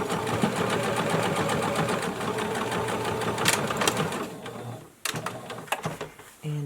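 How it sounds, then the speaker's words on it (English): A domestic sewing machine stitching and back tacking cotton fabric for a face mask, a steady fast whirring chatter for about five seconds, then a pause and a few short mechanical clicks and bursts close by. "I'm going to back tack."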